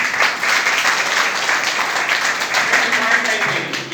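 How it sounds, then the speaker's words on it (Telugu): A crowd claps together at a jewellery marketing company's training program in Pendurthi, producing a steady, dense round of applause that holds even and fairly loud throughout. "సో డేవిడ్ రాజు గారికి ఒక గ్రాండ్ క్లాప్స్"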